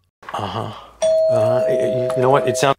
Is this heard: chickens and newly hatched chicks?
no